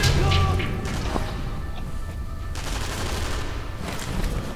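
Gunfire and impacts in the World War II shooter video game Sniper Elite V2, a sharp loud shot at the start followed by scattered distant shots and crashes over a noisy battle background.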